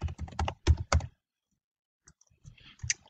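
A few quick bursts of close keyboard clicks while entering a login name in a remote desktop window, separated by a second of near silence before a few softer taps.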